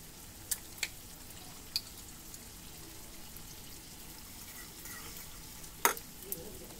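Almond and cashew paste is whisked with fresh cream in a bowl, making a quiet, steady stirring swish. A few sharp clicks of the utensil against the bowl punctuate it.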